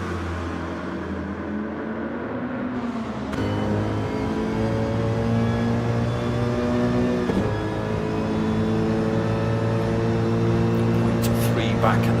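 Mercedes GR3 race car in a racing game, its engine droning steadily and shifting pitch as it brakes hard into a corner, with a commentator talking over the engine.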